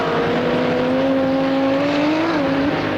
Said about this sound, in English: if you listen now, you'll hear this turbo thing coming in now